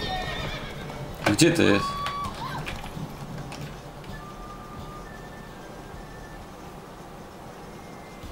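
In the video game The Witcher 3, a mare gives a loud neigh that rises and falls, with hoofbeats and game noise under it. The sounds fade into a quieter ambience, and people talk around them.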